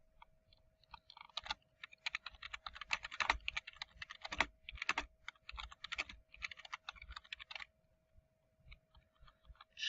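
Rapid keystrokes on a computer keyboard, typed in quick bursts with short pauses, close and clear with no one speaking.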